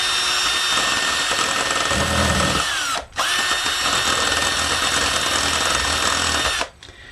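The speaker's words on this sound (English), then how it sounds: "I've taken basically a concrete floor spacer that has 4 raised areas that are just like guitar picks on this drill" A handheld drill fitted with a concrete floor spacer grinds steadily against the heel of a polyurethane-finished guitar neck, a bright continuous whine that cuts out briefly midway, resumes, then stops near the end.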